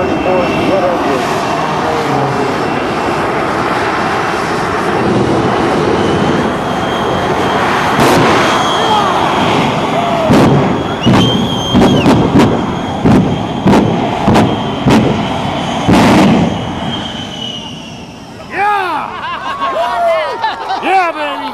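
Roaring jet thrust from the Shockwave jet truck as its three jet engines light their afterburners at an air national guard open house airshow, a loud sustained blast with sharp bursts and pops, heard at close range among crowd noise.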